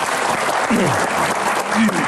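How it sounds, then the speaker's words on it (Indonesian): An audience applauds a guest in a brief, loud, steady round of clapping, with a voice talking over it. "Tepuk tangan dong untuk Ibu Ita"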